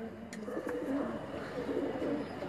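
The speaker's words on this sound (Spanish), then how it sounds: "Tú no ves que la gente está esperando palomas." Racing pigeons in Cuba coo softly in a continuous low murmur, faint and somewhat distant, with a brief high chirp early on and background hubbub throughout.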